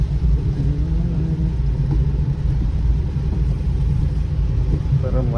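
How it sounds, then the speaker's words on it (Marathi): A car driving through heavy rain gives a constant loud low rumble of engine and road noise mixed with the wash of rain, with faint voices beneath. "तर मजा येते पावसामध्ये गाडी चालवायला."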